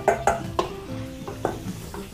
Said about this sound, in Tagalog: Balik natin sa kawali. Mag-isa tayo ng bawang.